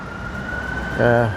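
A steady siren tone holds through the clip, with a louder rumble and harmonic swell near the end, fairly close.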